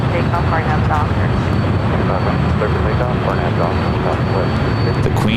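An airliner takes off from runway 25 right at LAX, a loud, steady roar of jet engines filling the scene, with faint radio chatter and bird chirps layered underneath.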